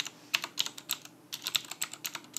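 Rapid keystrokes on a computer keyboard clatter close by in quick irregular bursts, with a brief pause midway and no voices.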